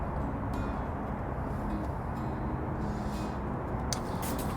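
Steady broadband hiss of water flowing continuously through a running drip irrigation valve, with a few faint clicks on top.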